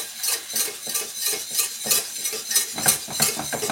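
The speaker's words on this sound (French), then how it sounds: "Avec un fouet métallique, vous commencez à incorporer la farine dans le beurre." A metal whisk works flour into melted butter in a pan for a cheese soufflé, giving loud, rapid rhythmic scraping and clinking against the metal, close and continuous.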